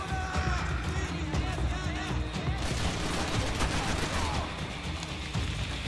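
Dense, continuous gunfire rattles in the video game Max Payne 3, with overlapping bursts and shots mixed with scattered effects over about six seconds of loud combat.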